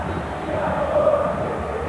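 A football crowd fills La Bombonera stadium during a 2003 Boca Juniors match against Arsenal de Sarandí, a broad distant roar that swells slightly and stays steady.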